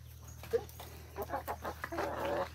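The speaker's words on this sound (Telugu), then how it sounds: "ఏమంటుంది కుక్కనా?" A dog gives a few short barks and whimpers close by at a farmyard with chickens, the calls coming in bursts over a steady low hum, with no talk.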